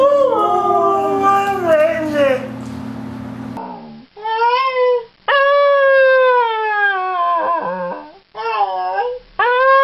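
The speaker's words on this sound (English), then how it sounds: "This is my dog, Honey." Dog howling in long wavering, voice-like tones that rise and fall like an attempt at a greeting, loud and close, broken into several drawn-out phrases with short pauses; a person's voice is heard briefly at the start.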